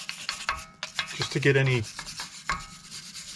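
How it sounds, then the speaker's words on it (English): A wire brush scrapes corrosion off the brake rotor disc of a Tesla Model 3, giving short, close rasping strokes broken by brief pauses, with a voice speaking briefly partway through. "get some kind of a wire brush and do some scraping here of the disc of the rotor"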